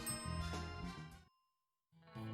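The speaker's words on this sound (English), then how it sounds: "Ring the bell." In the video game Deadly Premonition 2, a bell rings with a bright, tinkling ding that decays, goes quiet, then sounds again briefly at the end.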